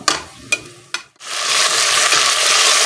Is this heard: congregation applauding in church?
no